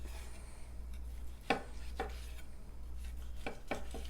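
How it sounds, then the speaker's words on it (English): Knife slicing through a roasted pork tenderloin on a board, a few distinct cutting strokes spaced over a steady low background hum, close and moderately quiet. "Now we're just going to slice it."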